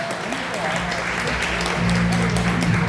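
An audience at a local-creator event claps steadily to welcome a speaker onstage, a dense, sustained burst of applause filling the hall, with voices mixed in underneath.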